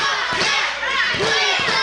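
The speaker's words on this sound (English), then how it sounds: "Crowd is chanting for Trevor Lee to stay in this fight" Wrestling crowd at a CWF Mid-Atlantic no-ropes match, a loud dense roar of many voices with rhythmic shouted chanting and a few dull thuds underneath.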